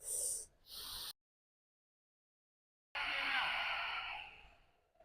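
Deep, slow breaths during yoga practice, close and breathy: a long exhale that breaks off, a short pause of silence, then a drawn-out rushing inhale that gradually trails away.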